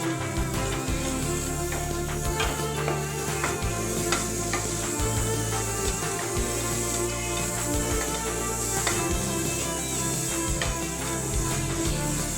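Snake gourd stir-fry with turmeric and salt being mixed in a pan, a continuous close sizzle with rhythmic scraping and tapping of a spoon throughout.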